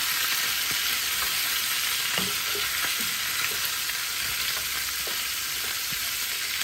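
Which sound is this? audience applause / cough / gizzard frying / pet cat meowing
gizzard frying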